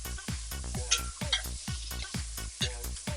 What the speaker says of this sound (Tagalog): Kaya po kailangan siyang igisa para yung lasa niya kumapit po.